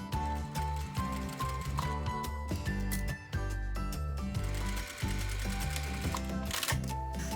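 A sewing machine stitches the seam allowance of an apron hem with a fast, steady mechanical chatter, briefly pausing as the stitching changes direction. It sounds close and continuous, with no talking.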